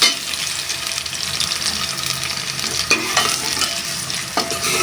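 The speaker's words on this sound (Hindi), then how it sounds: "ऑयल गर्म हो चुका है, अब हम इसमें ये जो प्याज धो के काट के रखा है वो ऐड कर दिया है" Washed, chopped onions frying in hot oil, a loud bubbling sizzle with wet crackle and stirring scrapes, a couple of sharper clinks near the end.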